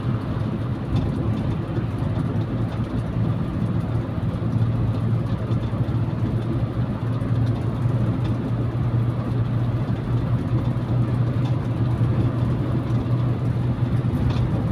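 A carbureted Toyota Kijang K4 engine held steady near 2000 rpm gives a continuous, even low hum with a steady droning tone, loud and unchanging throughout.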